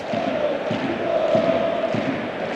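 Sevilla supporters on their feet in a football stadium, a continuous dense crowd roar with rhythmic pulses of chanting or clapping, steady and moderately loud across the stands.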